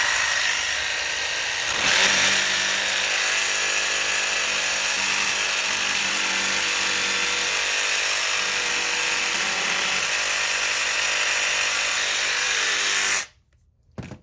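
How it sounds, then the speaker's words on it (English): A jigsaw cuts a relief cut in shoe molding during baseboard installation, a steady loud buzzing whine running continuously for about eleven seconds before stopping abruptly. "Still going to use a jigsaw, probably just as quick with a coping saw, just shoe molding."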